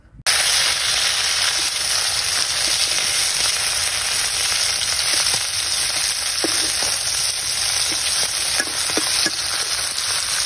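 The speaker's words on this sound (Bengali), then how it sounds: "আমি এদিকে মাছটা উল্টিয়ে দিচ্ছি ভালো করে ভাজার জন্য।" Fresh pond fish frying in hot oil in a wok over a clay stove, a loud continuous sizzle and crackle with occasional pops as the fish is turned, no voices.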